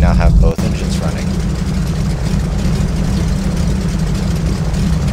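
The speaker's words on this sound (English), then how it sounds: "We now have both engines running." Both engines of a light twin-engine aircraft idling together, a steady deep drone with a low rumble and a brief dip near the start, loud and continuous.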